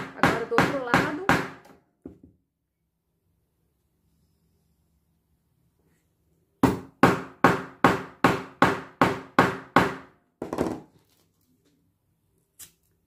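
Chisel tapped into wood to open cuts, a run of sharp evenly spaced knocks, then a pause before a second longer series of crisp strikes heard up close.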